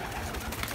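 Pigeons coo in a loft during the breeding season, giving soft, low, throaty murmurs that are close by and continuous through the short stretch. No one speaks.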